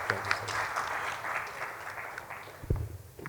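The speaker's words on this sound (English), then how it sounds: "A big round of applause for the panel." An audience at an accounting, taxation and sustainability summit applauds the panel with a steady, moderately loud wash of clapping that swells and then thins out near the end.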